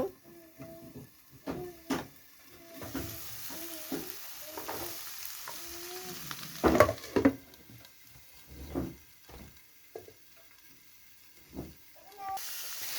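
Chopped onions and carrots frying in a pan for an Ethiopian potato and cabbage stew, with a soft steady sizzle broken by repeated stirring scrapes and clinks, fairly close and moderately quiet.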